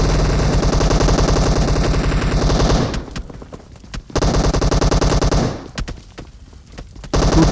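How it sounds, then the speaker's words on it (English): Rapid automatic gunfire in the PUBG Mobile battle royale game, loud dense bursts of shots that break off twice into brief quieter gaps before resuming. "Good cover fire here."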